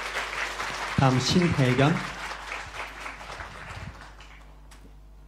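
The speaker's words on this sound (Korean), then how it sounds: "함께 박수로 축하해 주시기 바랍니다" A church congregation at a Sunday service in Johannesburg applauding a new-member certificate presentation, with steady clapping from many hands that gradually fades while someone speaks over it.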